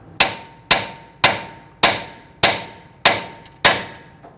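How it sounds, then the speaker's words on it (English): A hammer strikes the front lower control arm of a 2008-2013 Infiniti G37 seven times at an even pace, each blow a sharp, ringing metallic clang that decays quickly, close and loud. "use a hammer and lightly strike here while applying some downward pressure"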